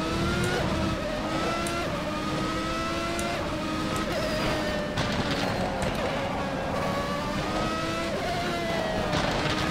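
A classic 1991 racing car is simulated in rFactor 2 on the Portland track, its engine droning loud and steady as it revs up and down through gear changes and corners, with a few faint tire noises.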